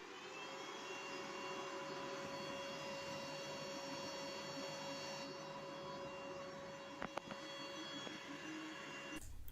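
WeCreat Vision laser machine engraving and cutting, a steady even whine and fan hum running throughout, with a couple of faint clicks near the end.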